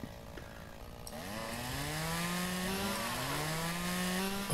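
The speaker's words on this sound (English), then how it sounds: "Where's our chainsaw? Oh, there it is. All right. Let's get rid of some of this crap." A chainsaw in the Farmer's Dynasty farming video game starts up and cuts, its engine whine rising in pitch and then holding steady and loud until a sharp jump at the end.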